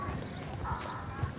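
Horse hooves clip-clop steadily in Mount & Blade II: Bannerlord, a continuous, moderately loud walking rhythm over a dense background rumble.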